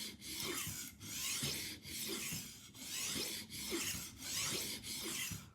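A knife blade being sharpened freehand on an Arkansas sharpening stone, close and clear: about seven steady back-and-forth rasping strokes in an even rhythm, each with a brief pause at the turn.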